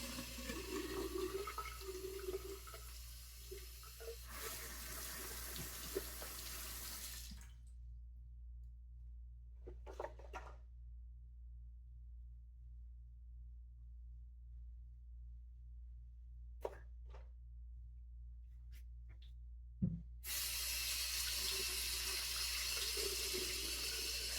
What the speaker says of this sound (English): let me rinse off and we'll get going for pass number 2